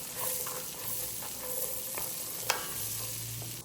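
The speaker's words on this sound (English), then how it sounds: "Once the butter is all melted, you can go ahead and add your carrots. Saute those for 3 to 4 minutes." Carrots sauté in melted butter in a pot, giving a soft, steady sizzle close by, with quiet stirring scrapes and one brief sharp knock partway through; nobody speaks.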